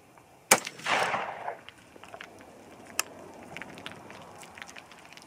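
A single sharp gunshot fired at a target over a chronograph, followed by a second of rumbling echo, with another fainter crack a few seconds later over quiet outdoor background.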